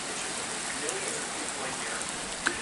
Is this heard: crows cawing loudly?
no